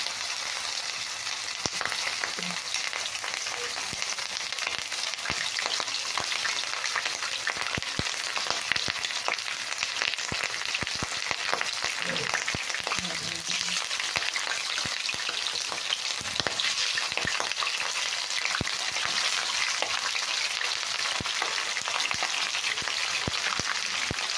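Chicken feet frying in hot oil, a steady, dense sizzle with crackling pops that holds evenly loud throughout, with no voices.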